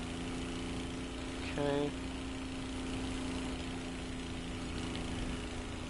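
Aircraft engine in War Thunder, a steady low idling drone that continues after a brief spoken word, with no clear rise in pitch.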